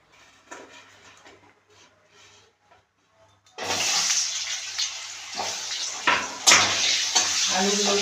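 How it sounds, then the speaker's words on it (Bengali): Diced potatoes coated in salt and turmeric hit hot oil in a pan, a sudden loud burst of sizzling after a few quiet seconds of faint clatter, then sustained crackling frying. "আলুগুলোকে আমি লাল করে ভেজে নেব।"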